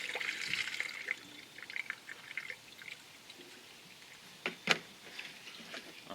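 Coolant poured into the radiator of a Jeep Grand Cherokee WK2 with a 3.6 Pentastar engine, a faint irregular trickle and dribble with a few louder splashes and clicks near the end.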